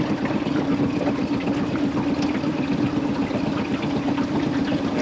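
A boat motor idles steadily at about two knots, a low rumbling drone with a constant hum that never changes pace, close by and fairly loud, with faint water sloshing.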